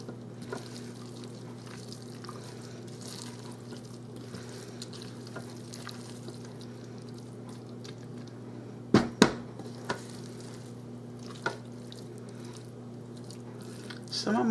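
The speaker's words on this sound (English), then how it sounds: "I'm going to stir it up." A rice and broccoli casserole is stirred in a pot, steady soft scraping and stirring over a constant hum, with a couple of sharp clanks against the pot near the end.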